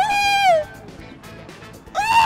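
A person imitates a dolphin with high, squealing, whistle-like cries. One rising-falling squeal comes first, then a gap with faint noise, then another squeal starts, loud and close.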